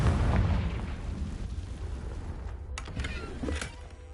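Confringo blasting spell from Hogwarts Legacy erupts in a low rumbling burst, followed by a few sharp crackling pops and debris-like snaps fading out, with no voice over it.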